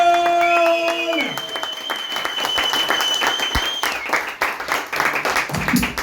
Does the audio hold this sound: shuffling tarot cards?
no